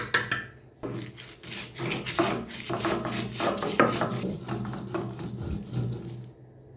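Spices for a hog plum mash being ground on a stone sil-bata: repeated rough rubbing and scraping strokes of stone on stone in an uneven rhythm, close and moderately loud, with no talking.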